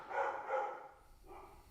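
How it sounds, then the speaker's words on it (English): A dog named Randy barks in the backyard, two quick close barks followed by a softer third, with a light ambient background. "Randy's barking in the background"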